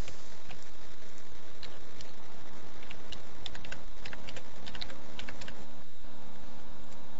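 Fast, steady typing on a computer keyboard at close range, a continuous patter of light key clicks over a constant background hum with no talk.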